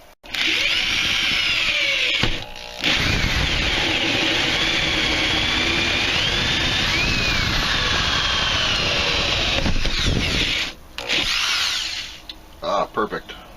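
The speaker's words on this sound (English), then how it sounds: "Drill hole." A power drill bores a hole while installing a composting toilet in a Class A RV bathroom, whining loudly and steadily for several seconds, pausing briefly, then running again before stopping in short bursts.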